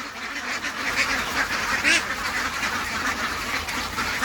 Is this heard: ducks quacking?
yes